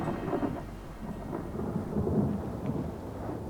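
A thunderstorm over St. Peter's in Rome, with a steady heavy roar of rain and rumbling thunder filling the clip, dense and continuous with no voices.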